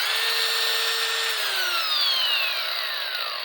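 Snap-on 90-degree 14.4 V cordless right-angle drill running on high, a steady whining motor tone that drops slightly in pitch as it spins down, close and loud with no talking.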